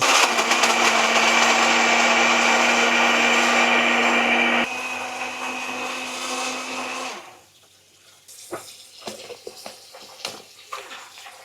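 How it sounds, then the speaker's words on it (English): A blender whirs loudly as it mixes a milkshake with plenty of milk, a steady close motor roar that drops in pitch partway, then cuts off, leaving quiet clicks and small handling knocks. "Then I'm going to blend it."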